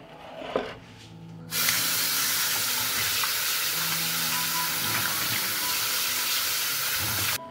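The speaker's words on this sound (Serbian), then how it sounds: "ovako oljušten krompir odnosim sad da ga operem pod mlazom vode" Peeled potatoes are rinsed under a running kitchen tap, a steady loud rush of water that starts abruptly after a quiet moment and stops sharply near the end.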